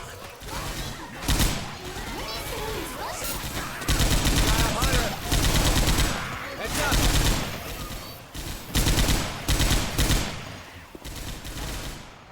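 Machine gun fire in the zombie shooter Left 4 Dead 2, loud repeated bursts of rapid automatic gunfire with short pauses, mixed with game sounds and voices talking over it.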